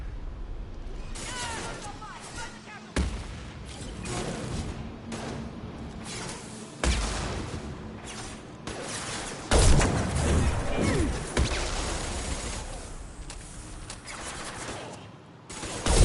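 Gunfire and combat from the video game Mass Effect 2 Legendary Edition: dense bursts of automatic weapon fire and heavy impacts, loud and close, sometimes underneath a player's voice.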